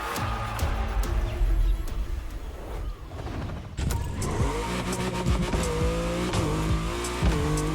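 A Mercedes AMG One hypercar driven in a racing video game, its engine revving and climbing through gears with sharp rising pitch sweeps, loud and close, briefly easing before accelerating hard again.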